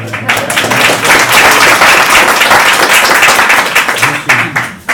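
An audience at a book presentation claps, a dense, loud burst of applause that holds steady and then thins out into scattered claps near the end.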